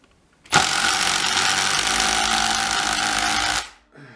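A DeWalt DCF801 or Milwaukee M12 FID 12V brushless impact driver sinks an ordinary wood screw in one loud, continuous rattling burst of about three seconds before cutting off abruptly.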